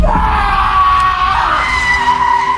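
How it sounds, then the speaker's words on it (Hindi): A motorbike skids hard to a stop, its loud tyre screech running for nearly three seconds and mixed with a close human scream, with no talking. "खौफ से चीख मारकर बाइक रोकी"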